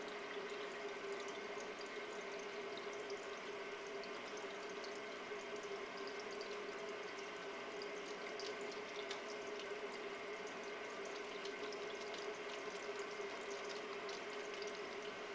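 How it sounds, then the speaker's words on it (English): Soapy hands rubbed and lathered under running water at a sink during infection-control handwashing, a steady, continuous wet scrubbing and water rush at moderate level throughout, with no talking. "Vigorously wash your palms, sides, and backs of your hands using a rubbing motion."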